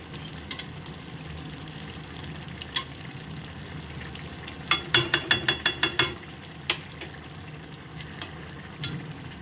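Boiled bottle gourd with a spoon of ghee crackles softly in a pan while being stirred, with scattered utensil taps and a quick burst of rapid scraping clicks midway through, heard up close.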